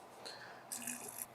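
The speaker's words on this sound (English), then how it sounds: "then I'm gonna come in with the boiling water" Boiling water is poured into a coffee pot, a faint, brief splashing trickle heard close up in a quiet kitchen, lasting only a moment.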